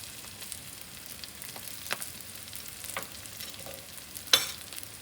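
Mashed potato stirred into sautéed masala in a pan for stuffed capsicum, a faint soft sizzle with scattered scraping and stirring taps.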